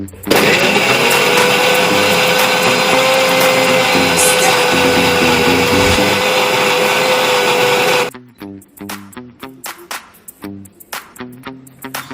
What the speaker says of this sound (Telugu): కర్పడి మిక్సీ వేస్తాను కదండి